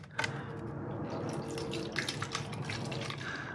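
Blue Honda coolant poured into the reservoir up to the max line, a faint, steady liquid trickle and gurgle with a few small splashes, close by and without talking.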